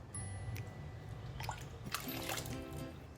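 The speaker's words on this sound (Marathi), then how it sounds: "भांडं धुवून पाणी टाकू आपण" Hot water pours into a pot of mixed five-lentil dal for amti in a kitchen, a soft trickling and splashing that stays faint and close.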